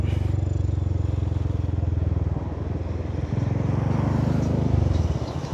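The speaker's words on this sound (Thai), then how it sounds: "นี่แหละครับที่เหตุผลทำไมผมถึงจะเอามอเตอร์ไซค์มานะ" A Honda Forza 300 scooter being ridden in town, its engine droning steadily and close with a low hum, shifting slightly in pitch as it rides along.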